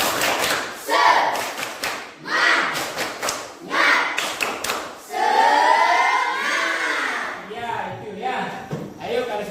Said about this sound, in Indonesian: Mana tepuk semangatnya? Tepuk semangat.